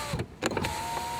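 Electric window on a Volkswagen Polo being raised, a brief motor whir lasting about a second, close up inside the car with no talking.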